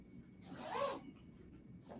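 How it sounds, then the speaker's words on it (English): One quick zipping rasp of zipper tape being pulled into place on a quilting machine, soft and close, rising and fading within a second against a quiet background. "I have my zipper tape and I have my leader, and I'm going to put the zipper tape on"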